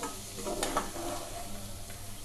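Onion curry with spices being stirred in a pan, a steady close sizzle of frying with a few scraping strokes of the spoon, no talking.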